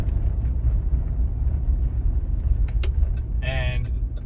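A 2011 Chevrolet Tahoe engine idles with a steady low rumble just after its alternator and belt were replaced, with a brief squeak-like burst near the end over the running motor.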